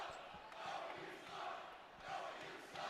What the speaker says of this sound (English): You can hear the crowd behind us telling the world what they think of Noah right now.